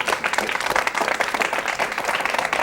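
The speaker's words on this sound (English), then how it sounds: "Let's hold down the applause, folks." A studio audience at a 1983 televised town hall meeting on foreign policy breaks into steady, dense applause, many hands clapping at once and filling the room for the whole stretch.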